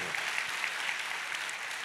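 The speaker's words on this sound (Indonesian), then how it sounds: "Ayo tepuk tangannya sekali lagi yang paling meriah buat Tuhan" Congregation clapping in a church, a dense, steady wash of applause that fills the short stretch evenly without pause and without anyone speaking over it.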